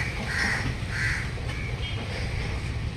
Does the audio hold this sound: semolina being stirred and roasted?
no